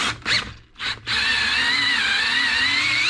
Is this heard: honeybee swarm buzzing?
no